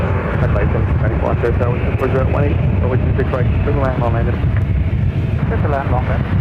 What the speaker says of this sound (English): Heavy 777-300ER coming in from Taipei.